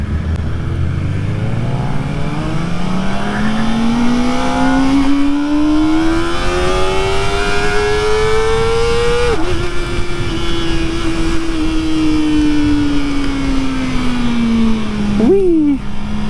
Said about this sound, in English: Man, that thing just sounds so insane at that high RPM.